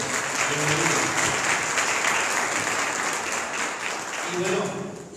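A church congregation applauds with steady, dense clapping filling the room for the whole stretch, with some voices and murmuring mixed in underneath.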